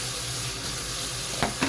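Running water rinses lids, a steady hissing stream with a couple of brief clinks near the end.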